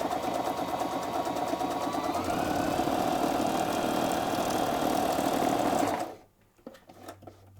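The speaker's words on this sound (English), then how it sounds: "Also notice as I'm sewing, I'm simply guiding the fabric with my hands." A Viking Onyx 15 sewing machine stitches fabric with a fast, steady mechanical whir close by, then stops abruptly near the end, leaving a faint rustle.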